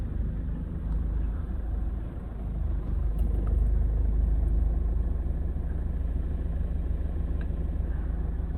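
A car carrying visiting friends rolls in, its engine a low steady rumble that swells slightly midway, moderately near and without voices over it.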